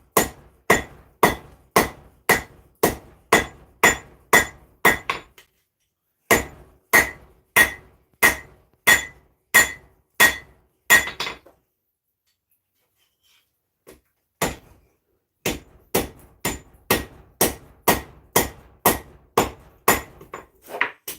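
Hot metal being forged into a miniature Zangetsu sword: sharp, ringing hammer strikes in fast regular bursts of about ten blows each, separated by brief pauses, loud and close with no talking.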